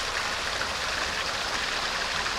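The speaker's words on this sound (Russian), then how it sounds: "водопад Девичьи Слезы." Maiden's Tears waterfall in Chechnya, a steady, broad rushing roar of falling water, close and constant with no voices.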